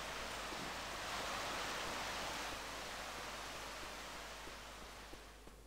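Steady rain hisses throughout the Death Craft map of the game Left 4 Dead 2, a broad, even wash of noise at low level with no talk over it.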